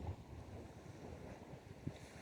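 Ocean waves wash onto a beach in a soft, continuous rumble, faint and distant, with wind buffeting the microphone.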